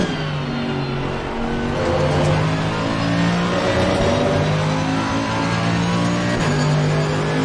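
A race car engine in Assetto Corsa Competizione drones loudly and steadily through a lap, its pitch rising and falling with shifts and throttle, alone with no voices.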